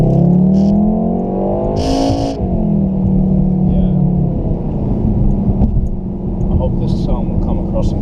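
A VW Golf R's engine and exhaust rumble as the car accelerates, a steady droning note rising in pitch, heard up close under ongoing talk.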